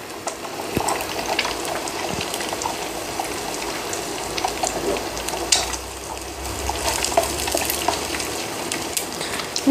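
Two eggs sizzle and crackle steadily in a hot pan of oil as mutton fried rice is being cooked, a soft, constant frying hiss with small pops and no talking.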